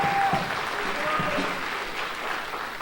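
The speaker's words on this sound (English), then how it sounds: "And you already gave them a great round of applause," Audience applause fills a festival hall as a crowd claps for the kitchen volunteers at a raspberry festival senior coronation, a steady dense patter over the whole stretch with a faint voice briefly under it.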